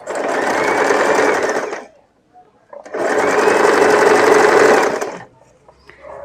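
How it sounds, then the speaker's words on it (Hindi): A sewing machine runs close and loud in two long bursts of steady stitching, with a short pause between them, as a double seam is sewn on a blouse shoulder. "तो इसमें भी हम डबल सिलाई लगाएंगे।"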